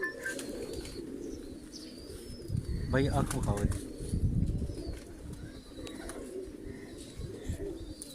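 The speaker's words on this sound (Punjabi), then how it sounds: "ਇਹ ਦੇਖ ਸਕਦੇ ਹੋ, ਇਹ ਸਾਡਾ ਘੋੜਾ ਕਬੂਤਰ ਹੈ" A ghora pigeon coos in low, soft murmurs from a domestic loft, while someone talks nearby over the birds.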